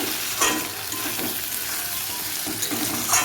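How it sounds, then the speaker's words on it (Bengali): Water is poured into a hot pan of frying spices for a prawn, bean and potato curry, setting off a loud sizzle and bubbling with splashy bursts close by, no voices. "জল দেবে এবারে।"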